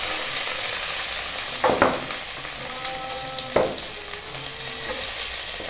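Potatoes fry in hot mustard oil with mustard seeds, a close, steady crackling sizzle broken by two bursts of stirring or spattering.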